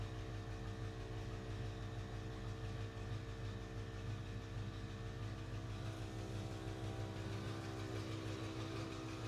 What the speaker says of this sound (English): That weird noise is the air compressor.